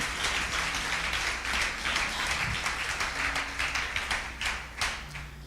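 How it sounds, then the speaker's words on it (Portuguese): Clapping from a church congregation during an evening worship service, a moderate, continuous patter of many hands with a few sharper individual claps standing out, no talking over it. "Aplauda o Senhor mais uma vez"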